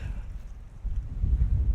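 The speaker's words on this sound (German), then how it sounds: "Es ist sehr windig." Strong gusts buffet the microphone on a golf course, a low rumbling roar that swells and surges, growing louder toward the end with no talk.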